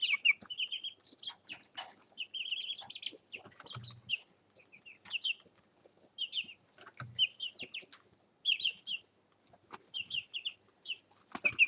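Young meat chickens, still carrying some chick fluff, cluck and chirp in scattered bursts at close range, with short pauses between calls and occasional rustling in a quiet coop.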